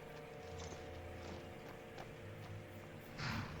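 Horse hooves clip-clop steadily in the video game Skyrim, a continuous rhythmic stepping under ambient game sound with a brief brighter burst near the end.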